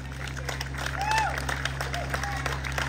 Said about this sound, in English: a round of applause for your friends and neighbors